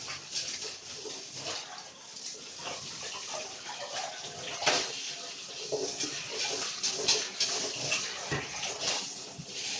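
A pan is washed under a running tap, with a steady close splash and rush of water, small clanks and faint household sounds mixed in.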